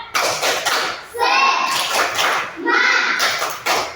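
Young pupils in an Indonesian classroom run through a spirited clap chant, their high voices chanting loudly in bursts while hands clap in rhythm close by.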